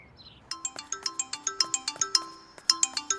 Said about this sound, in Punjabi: ਆ ਗਿਆ ਭੋਲੇ ਦਾ ਫੋਨ